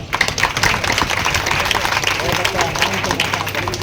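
A crowd at a Bhagwat Katha religious gathering claps together in a loud, rapid, continuous burst of hand claps lasting several seconds, with a crowd murmur underneath.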